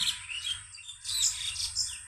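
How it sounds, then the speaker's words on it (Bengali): Small birds chirp and tweet in a bamboo grove across a river, quick bright calls repeating at moderate distance over a quiet outdoor background. "পাখির কিচিরমিচির"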